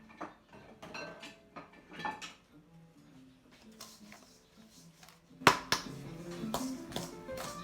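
A spoon stirs banana bread batter in a bowl, with repeated clinks and taps against the bowl in an uneven rhythm. The knocks grow louder and sharper toward the end, close by, and no one speaks.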